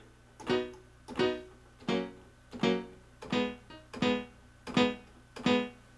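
Eight evenly spaced reggae piano notes or chords, each with a sharp attack and short decay, sounding thin and bright, with the low end cut by a high-pass filter.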